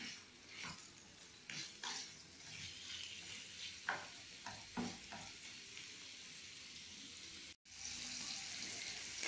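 Sausage sizzles steadily as it sears in a pan, with scattered scrapes and taps of a utensil stirring, a short gap, then the frying hiss resumes, close and fairly quiet.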